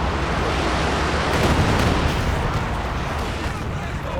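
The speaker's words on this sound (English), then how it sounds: "Heavy mortar set up." Heavy mortar and artillery fire rumble in the Company of Heroes 2 war strategy game, a dense, loud wash of booming blasts and explosions layered over continuous battlefield noise.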